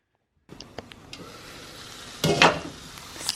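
Shakshuka sizzles in a frying pan on the stove, a steady crackling hiss with a louder burst of spitting midway, plus a few light clinks of a utensil; no talking.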